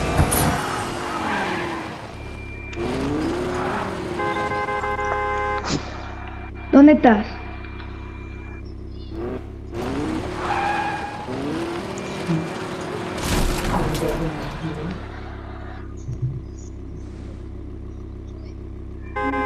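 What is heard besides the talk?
car driving and skidding in a video game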